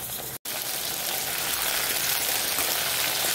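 Pieces of brinjal sautéing in hot oil in a pan give off a steady, close, dense sizzle, broken by one brief cut near the start, with no voices.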